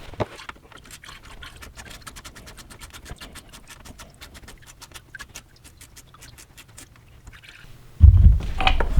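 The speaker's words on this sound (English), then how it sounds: "the radiator is draining out the last of its coolant" Coolant drains from the radiator of a Mercedes-Benz W124 300TD, a quick run of fast, even drips and patters close by, followed by a louder splashing rush at the very end.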